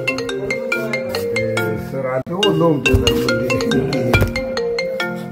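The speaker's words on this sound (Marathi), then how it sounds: "फोन आला बघा मला." A mobile phone ringtone plays as a loud, rhythmic musical tune with repeated notes, while a voice speaks briefly partway through.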